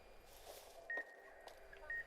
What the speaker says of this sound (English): Your collar is beeping faster.